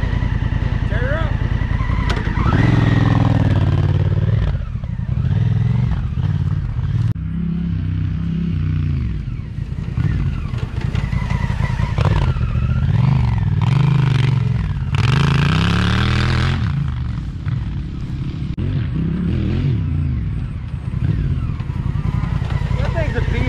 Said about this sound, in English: That thing's a beast of a bike.